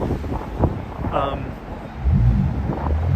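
Strong wind buffets the microphone with a steady low roar on a Manhattan street near 57th Street in freezing winter weather, and a voice speaks briefly over it.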